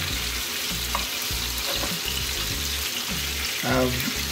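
Ginger dropped into sizzling oil for Jamaican brown stew snapper: a loud, steady frying hiss with bursts of crackle and a stirring scrape or two, close up.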